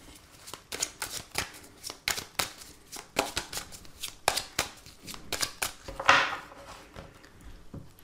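Tarot cards being shuffled by hand, a run of close, crisp riffling and slapping bursts over about eight seconds, with one longer bright flutter near the end; no talking.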